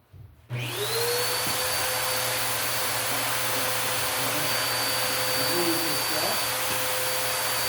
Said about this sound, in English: Use our vacuum cleaner to suck up all our